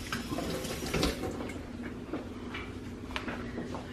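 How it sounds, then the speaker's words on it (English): A ladle is rinsed under a running kitchen tap while cooking New Orleans style jambalaya, water splashing steadily into the sink with light clinks, fairly quiet and without talking. "let me rinse it off, please."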